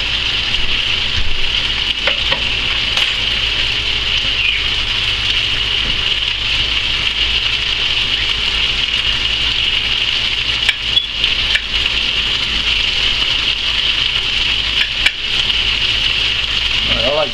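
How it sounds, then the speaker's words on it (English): Chicken stir fry sizzling in a pan on the stove, a steady, hissing crackle that runs unbroken at moderate loudness with a few small pops, and a voice talks briefly over it. "Sizzle just a little bit there."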